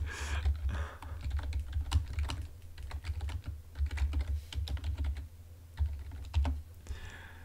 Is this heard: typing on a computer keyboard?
yes